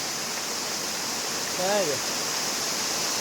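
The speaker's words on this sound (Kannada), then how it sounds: "ಕಪಿಲ ತೀರ್ಥ ನದಿ ಫಾಲ್ಸ್" The Kapila Tirtha river waterfall gives off a steady, broad rush of falling water that fills the whole stretch, with a brief voice speaking over it.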